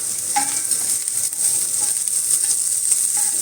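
Bitter gourd sautéing in hot oil in a pan for a gravy, a steady bright sizzle with occasional soft stirring scrapes, close and continuous with no talk.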